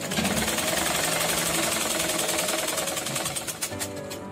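A sewing machine runs steadily while stitching a shoulder seam on a garment, a continuous close mechanical whir that rattles on for about three seconds before trailing off into a few uneven taps.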